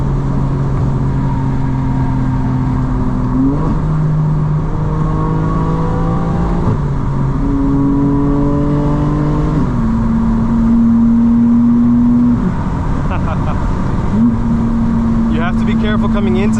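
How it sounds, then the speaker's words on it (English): A 2025 BMW M4 CS engine drones steadily through the exhaust with a valve controller and the exhaust button off, pitch climbing and dropping with each gear change, clean and smooth with no popping, heard from inside the car. "With the exhaust button off and a valve controller, now there's no burble, it's just pure clean sound."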